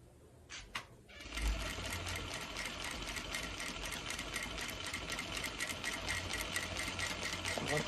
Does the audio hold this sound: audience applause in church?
no